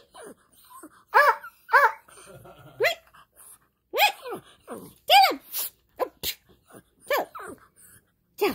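A dog sneezes several times in sharp, close bursts, mixed with whiny yips and snorting vocal sounds spread across the stretch with short quiet gaps.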